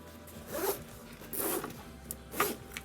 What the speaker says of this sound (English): So You do have a zippered pocket inside.